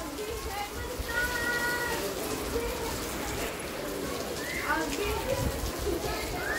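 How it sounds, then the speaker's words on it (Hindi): Steady heavy rain hisses on surfaces throughout, with birds calling and a cat-like cry over it, and people talking nearby. "बढ़िया बारिश हो रही है एकदम ठंडा मौसम हो जाएगा"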